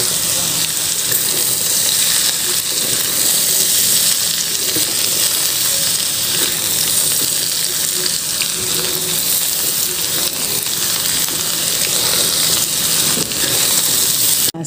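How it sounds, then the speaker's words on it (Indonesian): Onions sizzle and crackle steadily in a hot pan while cooking oseng tempe, a loud, dense, continuous frying hiss that fills the whole stretch with no break. "Ini tunggu bawangnya biar agak matang sedikit ya bunda."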